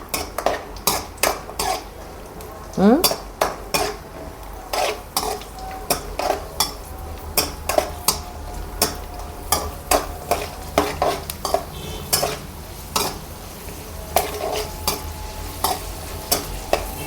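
Cashews, almonds and raisins fry in ghee in a pan for a sweet, stirred briskly, a steady sizzle under a rhythmic series of sharp scrapes and clinks of a spoon against metal.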